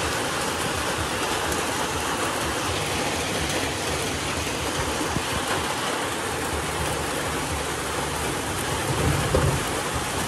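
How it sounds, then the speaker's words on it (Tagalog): Heavy afternoon rain pours down in a dense, steady hiss that never lets up, close and loud throughout with no voices. "Maulan. Maulan guys."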